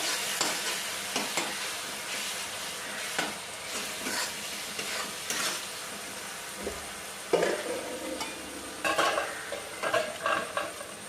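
Masala frying in oil in a home kitchen pan for paneer chilli, a steady loud sizzle with repeated scraping stirs of a spoon against the pan and occasional utensil clinks.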